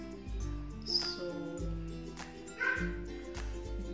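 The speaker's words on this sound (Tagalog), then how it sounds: "May aso pong tumatahol." A dog barks a few times in the background, short sharp yelps set against a steady low hum and faint room noise, with no talking over it.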